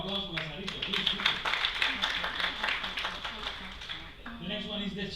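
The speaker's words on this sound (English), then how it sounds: "A big round of applause for Lazarito." Audience claps for Lazarito during a Cuban percussion class on changui rhythm, a loose run of handclaps at moderate volume with someone talking over and after it.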